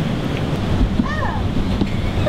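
Ocean waves surge and crash around a blow hole on a rocky shore, a loud continuous roar with wind buffeting the microphone and a voice faintly audible.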